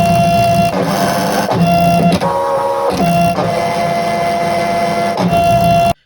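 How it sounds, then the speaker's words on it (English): A ScanNCut CM900 cutting machine runs steadily while cutting out pieces, a loud continuous mechanical whir with repeated short shifts in tone as the blade carriage moves, stopping abruptly at the end. "we're cutting the pieces out at the moment on the cutting machine. This one is a scan and cut CM900."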